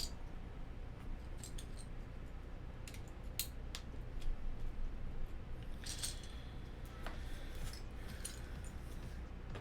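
GMK Hyperfuse plastic keycaps are handled and shuffled aside, giving scattered light clicks and clacks, a few sharper bunched taps, over a steady low background hum.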